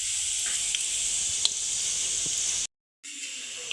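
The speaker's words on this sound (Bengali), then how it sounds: "কড়াইতে সর্ষে তেল দিয়েছি। সর্ষে তেলটা আমার গরম হয়ে গেছে।" Five-spice tempering (panch phoron) sizzles steadily in hot mustard oil in a kadai, a loud continuous hiss with a few sharp pops, cutting out briefly near the end before resuming.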